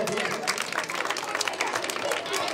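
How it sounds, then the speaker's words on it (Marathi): An audience at a contestant competition claps loudly in a dense, steady burst that lasts throughout, with voices talking and calling over the applause. "जोरदार टाळ्या वाजवा यांच्यासाठी"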